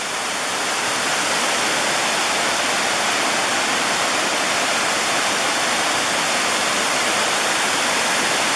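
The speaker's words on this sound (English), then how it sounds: "It's a nice little falls." A small waterfall at Deep Creek in the Great Smoky Mountains, a steady, loud, close rush of falling water with no pauses.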